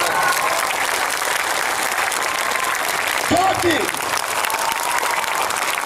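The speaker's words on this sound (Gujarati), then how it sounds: "બે હાથ ઉઠા રાખીને જોરદાર તાળી બોલો" A crowd at a political speech claps loudly and steadily throughout, with a voice speaking briefly over the applause partway through.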